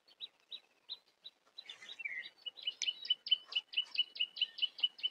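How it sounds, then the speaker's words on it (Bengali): Small birds chirp in a quiet, wide tea garden in Thakurgaon: thin, high tweets come first in sparse pairs, then quicken into a faster run of repeated chirps, soft and somewhat distant, with no voices. "শুধু পাখির কিচিরমিচির ডাক।"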